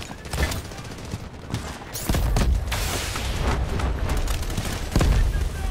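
Bursts of gunshots in the video game Last Stand, sharp cracks in quick volleys with booming low end, growing louder and denser after the first couple of seconds.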